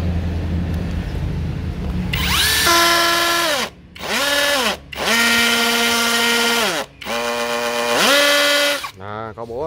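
Cordless hammer drill running in hammer mode, several loud bursts of whining motor with a rattling hammer action, each trigger pull ramping up and cutting off, separated by brief pauses.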